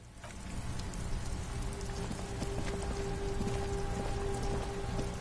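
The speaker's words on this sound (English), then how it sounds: "It's raining again." Steady rain falls, a dense, even patter with scattered drips that stays constant at moderate loudness throughout.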